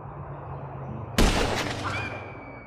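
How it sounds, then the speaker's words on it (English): A single loud gunshot in Grand Theft Auto V, a sharp close crack that trails off into a fading echo, with no voices over it. "Now I'm taking the shot."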